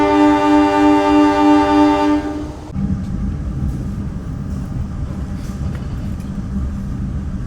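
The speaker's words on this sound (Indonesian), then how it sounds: "itu dari kereta api Lodaya tambahan" A Lodaya extra passenger train with new-generation economy and executive carriages sounds a loud sustained horn, then rolls past close by with a steady heavy rumble and clatter of wheels.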